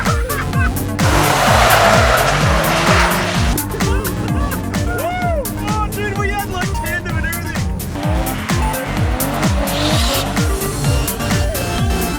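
A kei car drifting at a Japanese drift event, engine revving hard through repeated rising and falling sweeps with loud sustained tire squeal, close and continuous.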